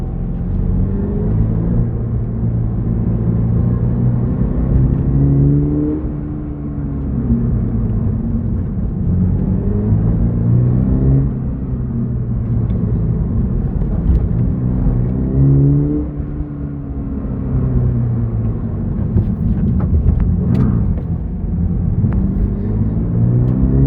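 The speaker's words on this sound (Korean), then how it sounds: "일단은 영상을 찍는 동안에는 그냥 기본 스포츠 모드로만 좀 달려보도록 할게요" A Toyota GR86 sports car drives in sport mode with a steady, close engine drone and road rumble. The engine pitch swells and falls gently as it rises and settles, with no talking.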